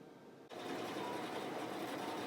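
An Intelliquilter computerized quilting machine stitches a quilt, a steady mechanical whir starting abruptly after a brief quiet moment and holding at a constant level.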